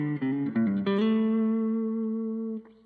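An electric guitar runs a quick string of picked and pulled-off notes shifting across the strings from high to low, ending on a sustained note that rings out clearly before cutting off, with no talking.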